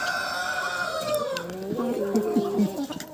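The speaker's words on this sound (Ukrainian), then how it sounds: "Як ви вже помітили, знаходжуся біля своїх курей кохінхін" Cochin chickens cluck and a young rooster crows close by, a drawn-out cock-a-doodle-doo followed by stuttering clucks and squawks.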